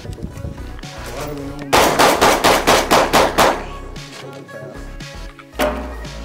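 A loaded gun fires a rapid string of about eight close, loud shots at a range, preceded by lighter handling clatter, with one more shot near the end.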